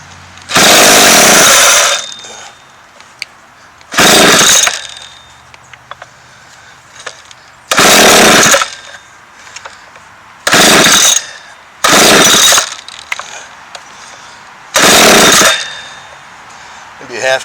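A McCulloch chainsaw roars in short, loud bursts, about six revs of a second or two each, separated by quieter idling gaps, heard up close.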